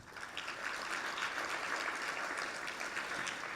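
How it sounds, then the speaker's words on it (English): Audience applause after a policy announcement at a compassion-themed conference, a steady wash of many hands clapping, moderately distant and even throughout, with no voices over it. "And I think we deserve a round of applause for that."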